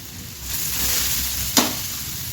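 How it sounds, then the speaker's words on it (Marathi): Grated carrots sizzling in ghee for carrot halwa, a steady broadband frying hiss close by with a brief stirring clatter near the end, no voices. "आता आपण ह्याच्यामध्ये टाकूया गाजर आणि छान असं म्हणजे आपल्याला भाजून घ्यायचं"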